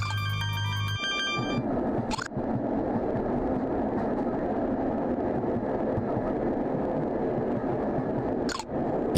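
Steady rumbling of a train in a video game runs throughout, opening with a brief electronic chime and punctuated twice by sharp bursts, with no talking.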